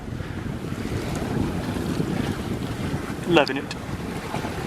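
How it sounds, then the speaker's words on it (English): A sailboat sailing close hauled at about 5 knots in strong wind, with steady wind rush and water noise across the clip, a brief splash near the end, and a short spoken remark over it. "Yeah, really good sailing. Currently going about 5 knots."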